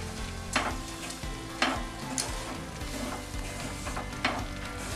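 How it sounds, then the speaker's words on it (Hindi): Flour for flaxseed laddu roasting in a pan while a spoon stirs it, with a steady low sizzle and a few distinct scraping strokes spaced about a second apart. "आटा डाल देंगे. और इसे चम्मच चलाते हुए इस तरीके से भून लेंगे."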